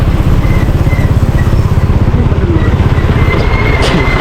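Motorcycles among stranded traffic on a road in San Fernando, Camarines Sur, a loud close engine drone with a fast pulsing throb, steady and continuous, no talk.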